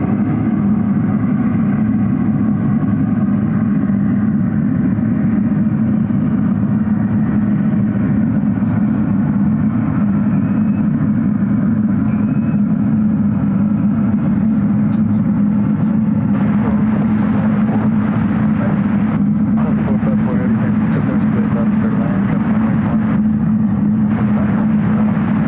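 Aircraft engines rumbling at a distance from runways 28 at San Francisco airport, a steady low drone that continues throughout without any break.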